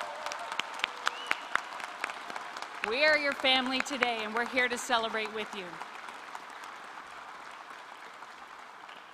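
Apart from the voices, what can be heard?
applause at graduation ceremony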